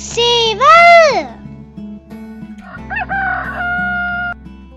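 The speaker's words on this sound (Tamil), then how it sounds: "சேவல்." A rooster crows loudly and close, its call rising and falling, over a steady low hum. Clucking follows later, and a voice speaks briefly.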